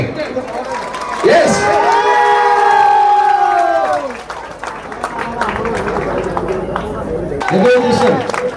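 A large crowd at a sports event in Kerala cheers and applauds an arriving team that has travelled over 500 km. The roar is loud and sustained, with rising tonal shouts near the start and an announcer talking over it.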